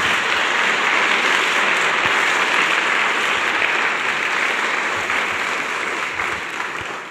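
An audience in a crowded hall breaks into loud sustained applause, dense clapping that holds steady for several seconds before beginning to fade.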